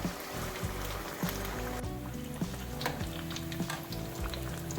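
Pinwheel samosas frying in hot oil until golden brown, a steady bubbling sizzle with faint scattered pops, close and continuous with no talk.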